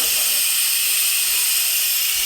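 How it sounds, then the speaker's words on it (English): Pressure cooker venting its pressure, a continuous loud, bright hiss of escaping steam held steadily throughout. "Now I'm letting the pressure out on the pressure cooker"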